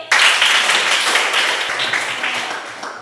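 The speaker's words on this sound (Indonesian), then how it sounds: "Ya, tepuk tangan untuk Oli." A class of students applauds one classmate with a brief, dense burst of clapping that starts abruptly and gradually fades.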